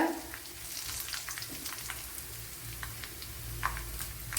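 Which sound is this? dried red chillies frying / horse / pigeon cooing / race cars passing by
dried red chillies frying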